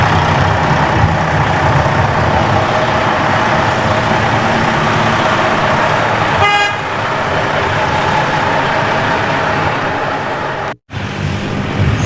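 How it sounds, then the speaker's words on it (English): A Prevost coach bus rolls steadily through a cone course, its engine holding a loud, even drone the whole way, with a brief rattle partway through and a sudden sharp dropout near the end. "driving through the cones to show his ability to drive around them and his braking ability too"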